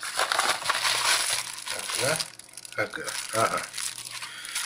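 Crinkling and tearing of parcel packaging as a delivery containing smartphone bumper cases and a stylus is opened, close and steady, with someone talking briefly over the rustle.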